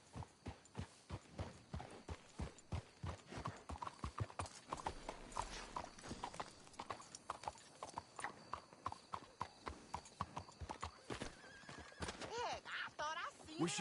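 Steady clip-clop of horse hooves at a brisk pace in Red Dead Redemption, close by, with a brief whinny and some muffled voices mixed in.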